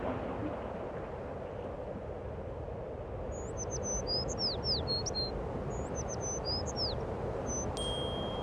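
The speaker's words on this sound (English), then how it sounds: "We need to build a house for these little birds, or they'll catch a cold." Little birds chirping, with short, bright high tweets coming in quick clusters in the second half over a steady low background hum, fairly faint and a little distant.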